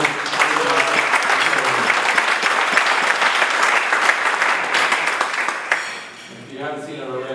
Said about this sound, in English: another round of applause for our longest.